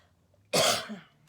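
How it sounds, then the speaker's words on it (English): One short, sharp cough, close and clear, breaks an otherwise quiet indoor moment. "Sorry, I got that irritating cough."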